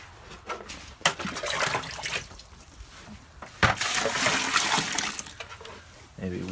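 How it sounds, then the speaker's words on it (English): Water poured and splashing into a bucket of chicken feed grains being soaked for fermenting, with bursts of pouring and sloshing over a steady watery wash. "so now I'm gonna fill all 3 of these buckets up"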